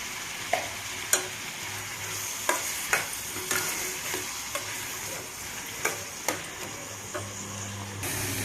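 Onions frying with salt in a pan, a bright steady sizzle close up, punctuated by regular scraping stirs and ticking clicks of a spatula against the pan, no talking.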